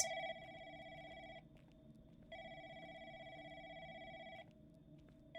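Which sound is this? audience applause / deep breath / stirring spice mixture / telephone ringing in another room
telephone ringing in another room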